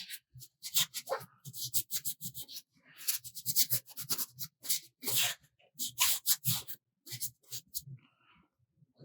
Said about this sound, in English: So I'm just taking the primer off, so we're down to bare resin.